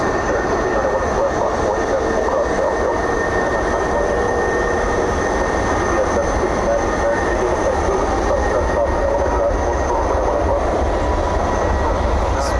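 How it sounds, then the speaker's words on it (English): A US Airways special-livery Airbus A321 touches down at night on runway 18 right at Dallas Fort Worth airport, a loud, continuous broadband roar of jet engines and rushing air that fills the whole stretch without a break. "It's an Airbus A321 about to touch down here on runway 18 right."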